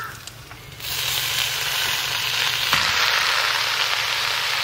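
Washed water spinach dropped into a pan of lightly fried onions hits the hot oil with a sudden burst of sizzling, which then holds as a loud, close, steady crackle, with a brief clatter midway.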